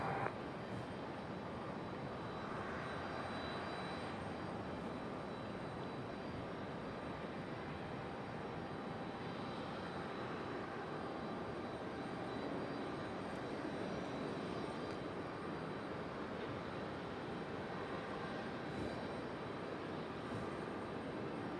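A fixed-wing airliner landing at Raleigh-Durham airport produces a steady, distant engine roar. The roar holds broad and even for about twenty seconds with no voices over it.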